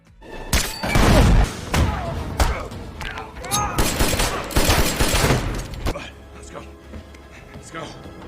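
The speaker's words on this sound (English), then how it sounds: "he was immediately greeted with a gunfight" Film gunfight at a power plant: bursts of loud, close gunshots and heavy thuds crowd the first six seconds, fading to quieter scattered impacts and rumble, with voices mixed in.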